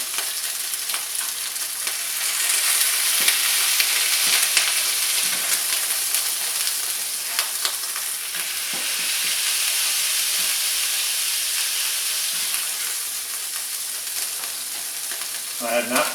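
Smash burger patties pressed flat with onion on a hot griddle give off a steady, loud sizzle and hiss throughout, with occasional scrapes and clicks of the spatula.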